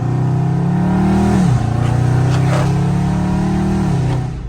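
A Dodge Charger Scat Pack in track mode accelerates hard, its loud close engine note climbing through the revs, dipping briefly at a gear change, then pulling steadily again before easing off.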